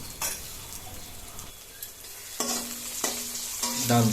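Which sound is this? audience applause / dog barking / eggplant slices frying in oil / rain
eggplant slices frying in oil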